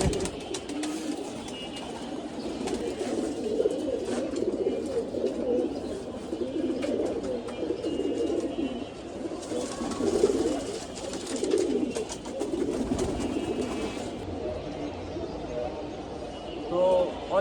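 Racing pigeons coo in soft, repeated throaty calls close by, with someone talking over them throughout.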